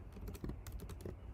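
Rapid typing on a computer keyboard, a quick run of close, crisp key clicks with uneven rhythm and no voices.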